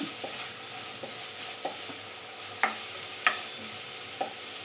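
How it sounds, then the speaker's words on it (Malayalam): Onions sautéing in a pan with green chillies and curry leaves for a white chickpea curry: a continuous close sizzle punctuated by several light spoon-on-pan taps, with no talking. "ഇനി ഇതെല്ലാം കൂടെ നന്നായി തന്നെ ഒന്ന് വഴറ്റിയെടുക്കണം"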